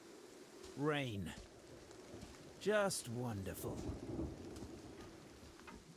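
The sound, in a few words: rain and thunder in the video game Total War Warhammer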